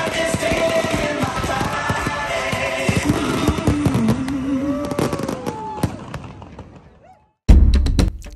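Dense crackling fireworks bursts and whistling rockets fill the air at La Grande-Motte, France, loud and continuous, then fade to near silence before one more sharp loud blast.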